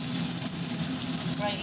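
Continuous crackling sizzle of spice paste frying in butter in a hot pan, close and steady, with a faint low hum beneath.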